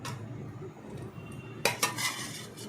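Cooked mutton being stirred into biryani in a pot, a close, quiet scraping and clinking of a spoon against the metal with a couple of sharper knocks near the end, no voices.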